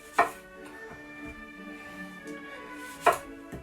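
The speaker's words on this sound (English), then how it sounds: "I'm going to get on with cutting this onion" Knife chopping a white onion on a board during stew preparation, two sharp, loud cuts about three seconds apart with quieter handling sounds between, no talk.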